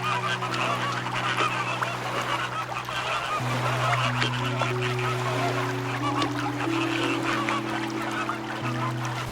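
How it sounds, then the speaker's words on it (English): A flock of flamingos calling near thermal geysers, a dense, continuous chorus of honking and gabbling voices, loud and close, with overlapping droning tones throughout. "flamingos."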